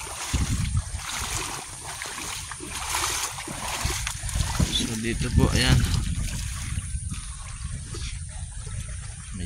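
Water splashes and churns continuously as someone moves through knee-deep flood water on a street after rain, with people talking over the sloshing throughout.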